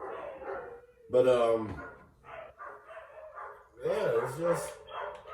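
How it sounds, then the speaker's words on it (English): Dogs barking from an upstairs room, muffled bow-wow barks with a brief burst early and another cluster later, heard under someone talking. "That's the dogs upstairs, y'all, by the way."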